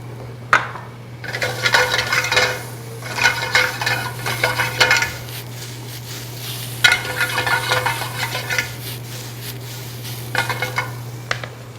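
Black trumpet mushrooms being sautéed in oil in a pot, with bursts of scraping and clinking stirring over a steady low sizzle, pausing between strokes and resuming, close and moderately loud.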